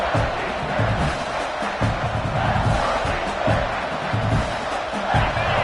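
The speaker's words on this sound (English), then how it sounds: "the crowd coming to life here, trying to help this defense down in the red zone" A stadium crowd at an American football game roars and cheers to back the defense in the red zone, a loud, sustained wash of distant voices with no clear breaks.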